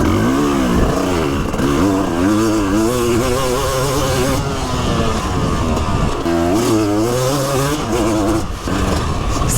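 A KTM 360 SX two-stroke motocross bike rides hard, its close, loud engine revving and shifting through repeated rising and falling pitch sweeps with no voices.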